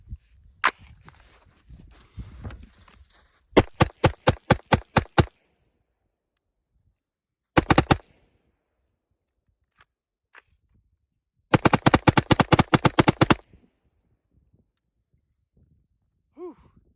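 A Palmetto State Armory 11.5-inch AR pistol fires PMC Bronze .223 Remington. It sounds as loud, sharp shots in rapid strings: one run of about eight, a short pair, then a longer fast burst, with a heavy exhale and silence between.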